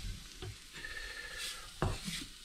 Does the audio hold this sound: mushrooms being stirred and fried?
yes